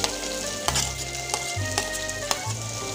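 Chopped onion dropped into hot oil with browned ginger and garlic, a steady close sizzle marked by several sharp clicks and bursts, no voices.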